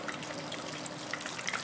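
Fish pieces frying in hot oil in a home kitchen, one piece at a time, giving a steady, dense crackling sizzle with scattered pops, close and continuous without talk.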